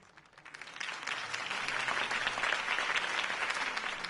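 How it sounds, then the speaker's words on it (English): Crowd applause at a political campaign speech in the Batman Telltale video game, swelling quickly into steady, dense clapping from many hands, heard at moderate distance with no talk. "If only Mr. Wayne, my campaign's largest backer, could have heard that applause"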